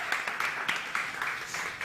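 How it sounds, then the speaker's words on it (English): Brief applause from a conference audience at the South Summit 2022 Sandbox Stage, a short run of many hands clapping at moderate level with faint cheering in the mix. "big round of applause, please, for the circular economy"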